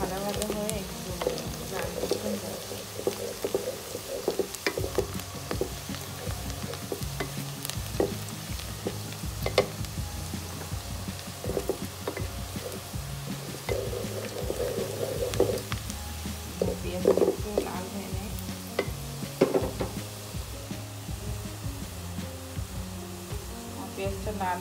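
Onions browning in a pan for chicken roast give a continuous crackling sizzle with intermittent stirring scrapes and clatter, close and moderately loud, while a voice speaks over parts of it.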